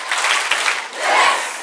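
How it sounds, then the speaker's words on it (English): An audience claps and cheers together at an elementary school graduation celebration, a dense burst of applause that swells, dips briefly, then rises again. "Y'all give them 6 claps and a yes."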